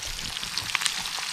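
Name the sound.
bluegill fish frying in a pan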